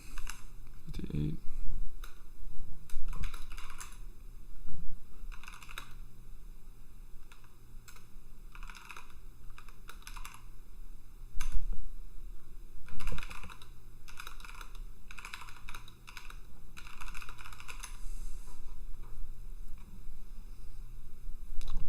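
Fast typing on a computer keyboard clatters in irregular bursts of close, crisp key clicks, pausing briefly between runs, with no one talking.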